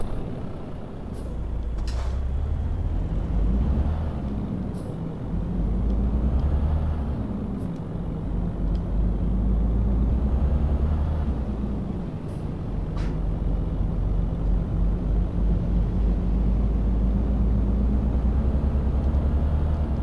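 A trailer truck hauling hot-water pipes rumbles along a night highway, its engine a loud, steady low drone that swells and eases with the throttle, with a few faint clicks and brief hissing bursts over it.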